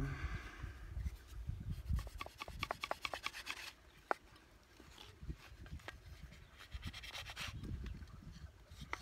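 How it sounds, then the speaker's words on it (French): A knife shaves and scrapes at a wooden kuksa cup in quick, rasping strokes, close and fairly quiet, with short pauses between bursts of carving. "Un petit coup de couteau de chaque côté."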